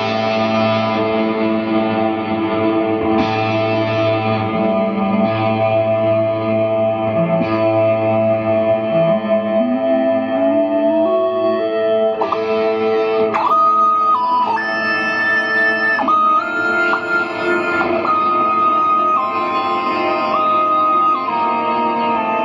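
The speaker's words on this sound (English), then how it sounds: "you could have that reverb going into, I don't know, like a synth" Electric guitar run through a Fractal Axe-Fx, its reverb feeding a synth effect: sustained, heavily processed tones with a gliding, stepping pitch line, loud and continuous throughout with lush reverb and echo, no talking.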